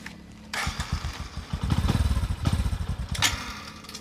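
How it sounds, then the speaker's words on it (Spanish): A motorcycle engine sputters and labors unevenly as it breaks down, with rough pulsing bursts and a few louder thumps, close and fairly loud with no talking. "y todavía que se me arruina la moto."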